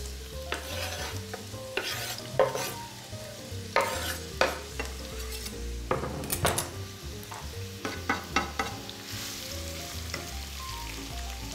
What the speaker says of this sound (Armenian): Սոխը տապակելու եմ բուսայուղով, թող տաքանա